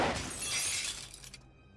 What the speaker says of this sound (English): suddenly there was the sound of the back window glass breaking